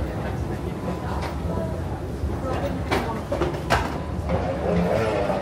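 Train at a railway station located inside an airport, a faint low rumble under steady talking and busy station ambience.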